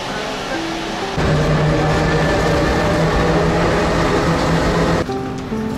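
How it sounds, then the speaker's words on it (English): A train arrives at a station platform on the way to Brussels Central, a loud steady rumble and rush that swells, holds, then drops off sharply near the end. "Our train is approaching."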